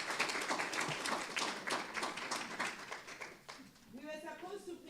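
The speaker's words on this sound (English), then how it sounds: "A round of applause," An audience applauds an award recipient at an economic resilience event, a burst of clapping that fades over a few seconds while a voice speaks over it.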